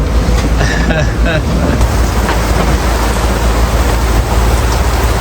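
Rain pours steadily onto a boat's bimini cover while sailing at sea between Papeete and Fiji, a dense, even hiss and drumming that fills the whole stretch, with faint voices underneath.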